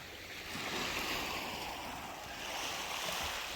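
A dead-calm, flat winter sea on a cold night with a slight northeasterly wind, giving a soft, steady wash of water gently pushing in and out with no crashing waves, mixed with faint wind noise.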